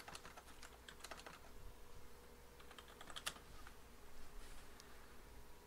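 Computer keyboard being typed on while entering a command on Windows Server, with quick irregular clicks in two short bursts, close and faint, with no talk.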